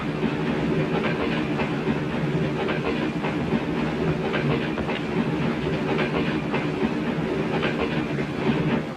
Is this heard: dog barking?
no